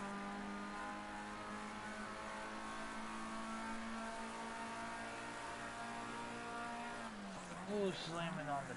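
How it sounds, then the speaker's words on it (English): Race car in a Formula Ford racing video game, a steady engine whine that drops sharply in pitch near the end as it brakes hard, with faint tire noise. "slamming on the brakes"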